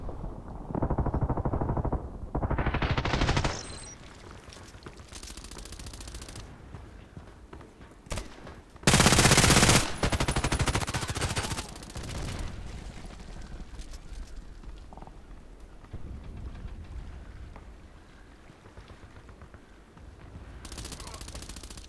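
Bursts of H&K MP7 submachine gun fire in the shooter game Contract Wars come in several loud, separate volleys amid quieter gameplay noise and footsteps, with someone talking in places.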